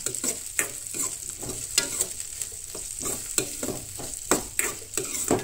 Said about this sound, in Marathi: कांदोय बीन नाही बरो भाजून घेवंक जाय, चड करपोवंक जायना.